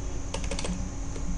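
A short burst of keystrokes on a computer keyboard while a username is entered during an Ubuntu 11.10 install, about five quick clicks close by, then a single stray tap.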